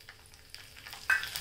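Cumin seeds dropped into hot tempering oil, just after mustard seeds, give a faint, brief sizzle and crackle that rises to a slightly louder burst near the end.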